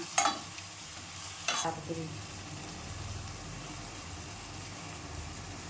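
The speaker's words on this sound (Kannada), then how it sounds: "ಇದು ಎಣ್ಣೆಯಲ್ಲೇ ಸ್ವಲ್ಪ ಹೊತ್ತು ಹುರಿಲಿ" Soya chunks fry in oil in a pan for a curry while being stirred. A few sharp scraping stirs open it, then a quiet, steady sizzle continues under some talk.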